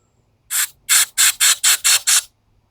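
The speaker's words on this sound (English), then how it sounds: "I'm going to spray in some carb clean in there." Carburetor cleaner sprays into a snowblower carburetor in seven short, loud hissing bursts, the last five in quick even succession, close up with no talking.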